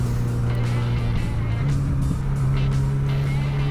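A motorcycle ridden without a clutch, its engine note droning steadily and rising slightly in pitch partway through, with traffic-like road noise all around and no talk.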